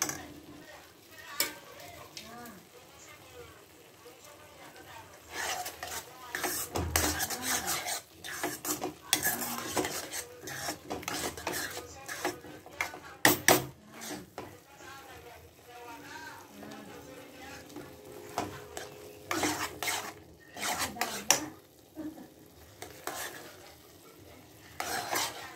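Carrot halwa stirred and mixed in a pan, with a spoon scraping and clinking against metal in uneven bursts over a soft sizzle, and a voice talking intermittently.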